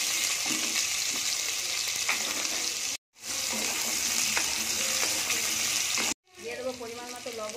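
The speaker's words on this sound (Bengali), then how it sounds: "প্রথমে আমি আলুগুলো ভেজে নেব।" Potatoes fry in mustard oil in a wok with a loud, continuous sizzle and occasional stirring scrapes, cut off by two short gaps where the sound drops out.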